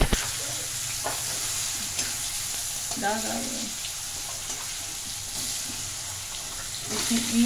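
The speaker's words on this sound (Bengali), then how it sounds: "এবার আমি বেগুন আলুটাকে তেলে ভেজে নেব।" Eggplant and potato pieces fry in hot oil with a steady, close hissing sizzle throughout, broken by a few clinks and scrapes of stirring.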